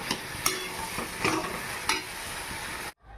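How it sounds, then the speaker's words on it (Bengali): Snail curry with potato and eggplant stirred in a pan, a steady close sizzle with a few scraping strokes of the spoon, before it cuts off abruptly near the end. "একটু নেড়ে চেড়ে নিলেই হয়ে যাবে এই রেসিপি।"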